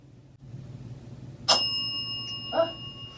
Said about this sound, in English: Can you make the bell go off?